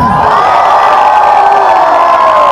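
Crowd at a live Coupe Decale concert cheers, whoops and shouts loudly in a dense, continuous roar.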